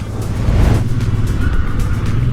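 Traffic on a road near Lake Iseo at Sarnico, with a loud, close, continuous rumble of car engines and tyres lasting the whole moment.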